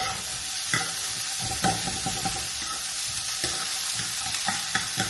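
Coriander leaves and green chillies sautéing in a pan, a steady close sizzle broken by scraping stirs and soft clinks of the spatula against the pan.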